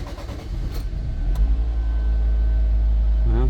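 A 2007 Nissan Versa engine cranks and catches after a fuel pump replacement, with a pressure regulator issue. A short rough churn settles into a steady, close idle hum that runs to the end.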